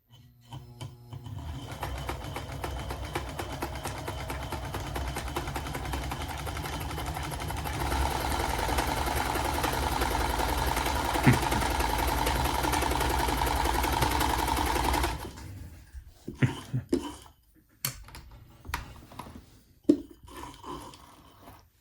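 A Kenmore Ultra Stitch 8 sewing machine with a looping-stitch fault runs steadily and close, its motor hum rising in speed partway through, then stops, leaving scattered clicks and handling knocks.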